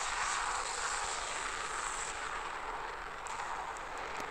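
Steady droning propeller-engine roar of a small warplane in the video game Sky Combat War Planes Online, continuous and fairly loud, with no voices, holding evenly throughout.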